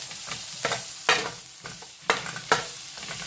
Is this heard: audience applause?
no